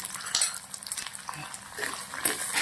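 Potatoes and green chillies sauté in oil for sabudana khichdi, giving a steady soft sizzle with scraping and stirring clinks of a utensil against the pan throughout.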